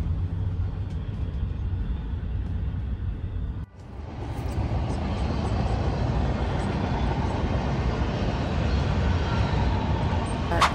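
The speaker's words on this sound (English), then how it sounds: "if you don't mind the sound of a train, it'll be fine. But if you do, you can hear it" A train rumbles past an RV campground in Nashville, a steady, loud, broadband roar that briefly dips and then swells back louder, filling the whole stretch with no talk.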